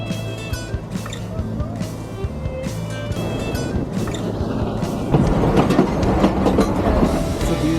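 Durango and Silverton narrow-gauge train rolling on its tracks in Colorado, a steady near rumble with rhythmic wheel clatter that grows louder toward the end, with a faint voice briefly under it.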